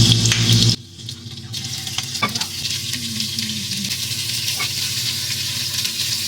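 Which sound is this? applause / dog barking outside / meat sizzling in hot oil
meat sizzling in hot oil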